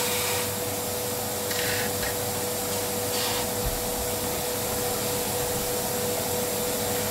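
A shop vacuum drones steadily and loudly throughout a woodworking session while a small wooden hanging planter box is built, its even whine broken briefly by faint tool noises.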